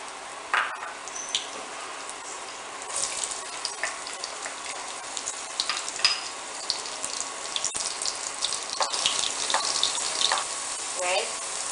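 Onion and garlic sauté in at least a quarter cup of cooking oil, giving a steady close sizzle and crackle with small stirring and scraping sounds throughout.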